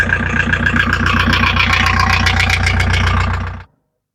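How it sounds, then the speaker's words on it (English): A VW T3 van engine idles steadily and loudly, picked up on a phone microphone, its low rumble running several seconds before cutting off abruptly into silence. "So that was the engine with this microphone turned off."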